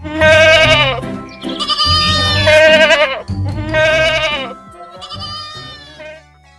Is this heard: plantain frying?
no